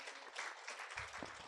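Faint applause from a small crowd at a Hindu temple yagna, brief scattered clapping heard at a distance.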